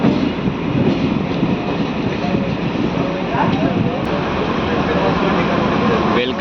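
A DEMU train rumbles loudly and steadily into Dhone Junction railway station, a continuous close roar of wheels and engine with a brief squeal late on, as someone talks over it.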